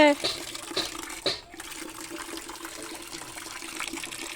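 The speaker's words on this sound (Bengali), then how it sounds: "প্রথম জল আইছে আমার এ জল তো নোংরা বেরোচ্ছে নোংরা জল পড়তেছে" Dirty, muddy water gushes from a newly installed tap in a steady, close rush, with voices talking over the flow.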